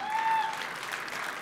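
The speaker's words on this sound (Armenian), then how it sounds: "Այս ծափարությունները քոնն են" Audience applause fills a televised national dance gala final: steady, dense clapping from a crowd that holds at an even level throughout, with a brief thin tone at the start.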